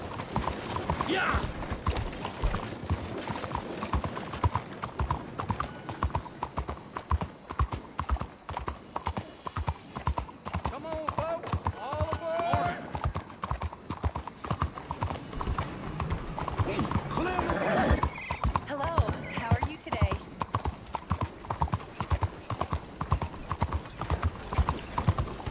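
Horse hooves clip-clopping in the Red Dead Redemption 2 video game, a steady, rhythmic stream of close, clear hoofbeats throughout, with a brief neigh and game ambience.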